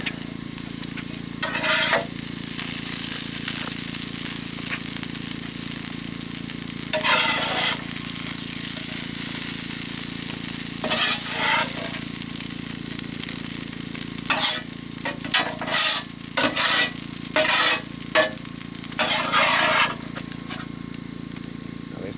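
Hash browns sizzle steadily in grease at a forest boondocking campsite, a constant close frying hiss broken by repeated scraping and stirring bursts.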